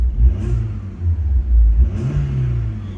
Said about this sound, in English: I'll give it a very quick rev for you.